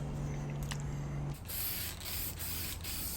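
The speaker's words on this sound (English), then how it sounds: "you might want to just spray in that area, general area, to cover it up" Aerosol spray paint hisses from a can as a refurbished clothes dryer is repainted, a steady broadband spray running close and loud through most of the clip with brief pauses between passes.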